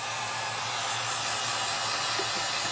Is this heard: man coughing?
no